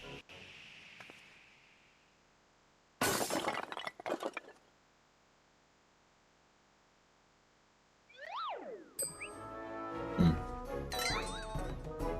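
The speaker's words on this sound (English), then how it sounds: "a vase flung to the ground with reckless abandon" In Final Fantasy XIV, a vase hits the ground and breaks in a sudden bright crash of shattering pieces that lasts about a second and a half. Near silence follows, then chiming game music and effects.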